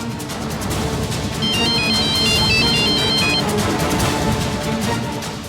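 A phone ringtone plays a repeating electronic melody, loud and close, over a dense musical background with no speech.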